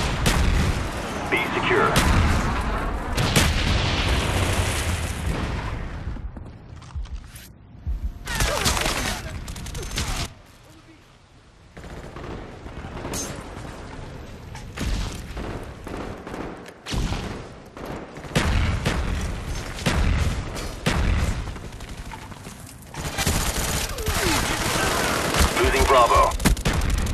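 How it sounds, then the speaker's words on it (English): Video game napalm strike with heavy rolling explosions and dense bursts of gunfire, loud and continuous for most of the stretch with a brief lull, while a game voice calls out over the battle. "Enemy napalm strike incoming."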